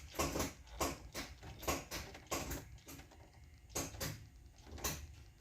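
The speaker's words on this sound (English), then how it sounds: "Fuel pump." An electric fuel pump in an S10 pickup primes with the ignition on, giving a faint series of rhythmic clicking, whirring pulses that sound strained, alone in a quiet space.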